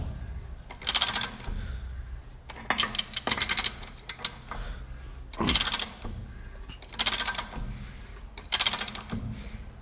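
A wrench turns a new nut that cuts threads onto a worn bolt on an Eversman 600 self-loading dump scraper, giving rhythmic bursts of metallic ratcheting and grinding with brief gaps, close and fairly loud.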